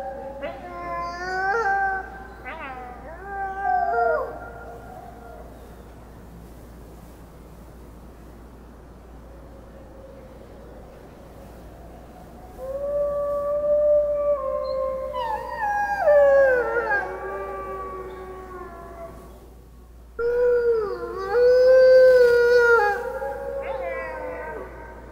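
Wolves in Oregon howl in long, wavering, overlapping calls, several voices rising and falling together in loud bursts separated by a quieter stretch.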